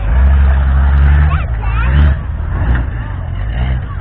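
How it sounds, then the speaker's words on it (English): Engine of a tough truck competition truck at a county fair in Delaware County, Ohio, revving loudly and close with heavy low rumble, surging twice before settling, with crowd noise and voices underneath. "First truck of the night."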